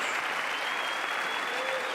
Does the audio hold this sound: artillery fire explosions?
no